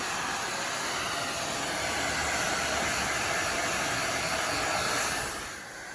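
A hair dryer blows on a black face mask worn on the skin, a loud close continuous hiss and whir that holds steady before dropping off slightly at the end, with no talk.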